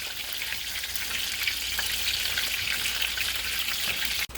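Squirrel pieces frying under a lid in a covered pan, a steady muffled sizzle and crackle held at even level throughout, with a brief knock at the very end.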